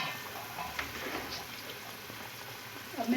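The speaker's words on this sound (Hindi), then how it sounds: "पानी उबल चुका है।" Water boils in a cooking pot for yakhni pulao, a soft continuous bubbling hiss with faint scattered pops, steady and fairly quiet throughout.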